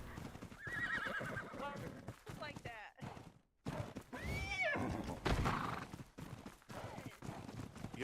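A video game horse neighs and whinnies several times, mixed with clip-clop hoofbeats, while a player talks over it throughout.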